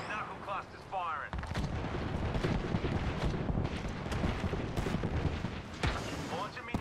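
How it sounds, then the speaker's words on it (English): A knuckle cluster weapon fires in a video game, a dense, continuous roar of rapid blasts and rumbling explosions that fills the clip with heavy, sustained noise. "Stand back, knuckle cluster's firing."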